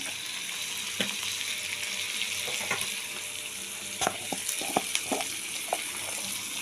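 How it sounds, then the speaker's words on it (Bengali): Onions fry with salt in a pan for an egg tarka, a constant close hiss of sizzling oil punctuated by sharp clicks and taps of stirring. "পেঁয়াজটাও ভাজা ভাজা প্রায় হয়ে এসছে"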